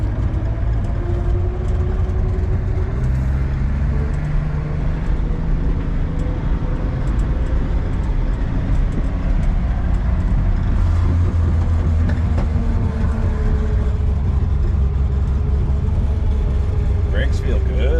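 A 1960 Plymouth drives along with its engine and exhaust droning low and steady throughout, a constant close rumble with a faint whine riding above it.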